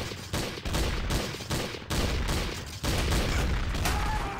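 Rapid gunfire in Trouble in Terrorist Town, with dense, loud bursts of shots repeating almost without pause, close and dominant, with hardly any talk over it.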